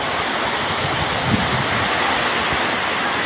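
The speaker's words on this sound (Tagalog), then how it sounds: "lakas ng ulan at saka hangin" A dense, steady roar of heavy rain with gusting wind heard from inside a house in Misamis Oriental, Philippines, loud and continuous throughout.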